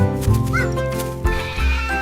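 Lamb bleating in a children's holiday nursery rhyme, a short wavering baa rising over a musical backing, with a second voice-like cry near the end.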